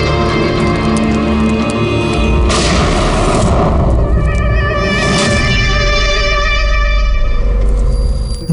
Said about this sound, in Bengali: গুলি চলার আওয়াজ ছিল তো, কিছু গন্ডগোল মনে হচ্ছে।